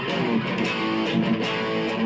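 A Busker's Japanese-brand electric guitar, heavily distorted, chugs out a thick, buzzing, sustained chord, loud and dense throughout with no pauses.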